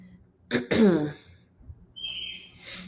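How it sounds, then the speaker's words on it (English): A pet bird in its cage makes a rough, throaty call followed by a thin, high whistling chirp, fairly close and otherwise quiet. "Is that a bird we're hearing?"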